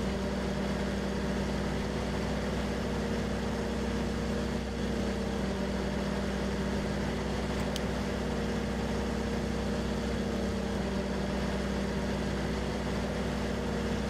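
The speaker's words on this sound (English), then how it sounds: "This tractor is definitely a little greedy on the fuel side of things." A tractor engine in the Farming Simulator 15 video game runs at a steady, loud drone for the whole stretch, with no change in pitch and no one talking over it.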